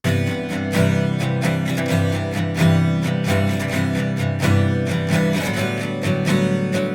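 Many stacked acoustic guitar tracks play together as one dense, loud wall of strumming, steady and full with rhythmic attacks throughout.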